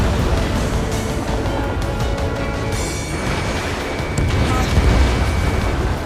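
A missile strike blowing up a ground target in the Ace Combat 7 jet combat game, a heavy booming explosion over constant loud roaring engine and wind noise, with rumbling rising again near the end.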